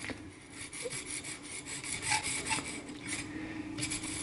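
A knife blade is drawn across the stone of a fixed-angle sharpener set near 12 degrees, producing steady rasping strokes of repeated scraping and rubbing, close and moderately loud, with no speech.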